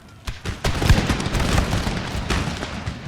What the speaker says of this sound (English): We've got cannon shots going through as well. Sepoys over here are firing.